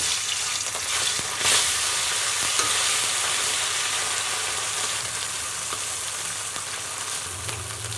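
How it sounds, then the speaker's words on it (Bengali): Fish sizzles in hot oil in a kadai, a steady, close crackling hiss with a brief louder burst near the start and occasional small pops throughout. "তেল গরম হয়ে গেছে মাছটা দিয়ে দিচ্ছি"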